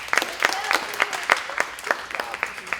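A small group claps at a beauty pageant training session, each sharp clap clearly audible in an uneven rhythm, fairly close and lively but thin rather than a large crowd.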